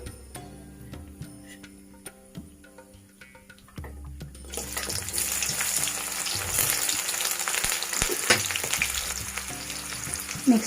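Onion drops into a pan of hot oil with fried mustard seeds and cumin, and a loud, steady sizzle takes over, with occasional stirring clinks and no talk.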